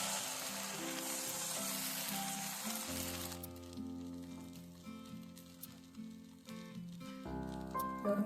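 Rava appam batter hits a hot, ghee-greased appam pan with a dense, bright sizzling hiss for a few seconds, then fades to a faint crackle under background music.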